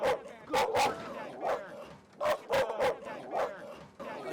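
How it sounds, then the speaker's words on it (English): Several dogs bark in loud, repeated bursts at a grizzly bear, with yips and whimpers mixed between the barks, close and continuous. "the bear is not enjoying this at all, being barked at"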